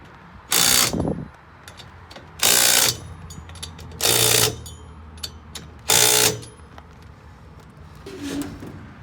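A torque wrench ratchets on a truck leaf spring U-bolt in four loud, evenly spaced bursts, each lasting under a second, with quiet pauses in between.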